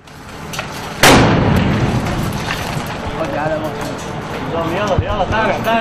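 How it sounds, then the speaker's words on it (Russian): A grenade blast during combat in Al Kabun, Syria: one sharp, loud explosion about a second in, with a long rumbling decay, while voices talk over the noisy battle background. "Боевики применяют гранаты."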